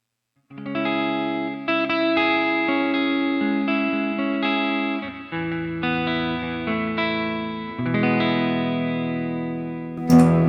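Sustained electric guitar chords through a liquefier modulation effect, a swirling, watery sound, played alone and fairly loud, ringing through several chord changes before a brief accent at the end.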